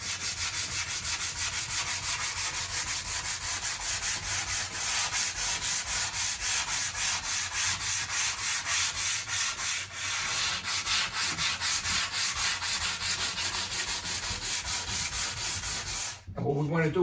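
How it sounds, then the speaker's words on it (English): Sandpaper wrapped around a block rubs steadily over a drywall patch in a sheetrock wall, a close, continuous rhythmic scraping of quick back-and-forth strokes, ending with a brief knock. "I want to put the sandpaper around this so I can contour it better"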